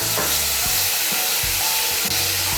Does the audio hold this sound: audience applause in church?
no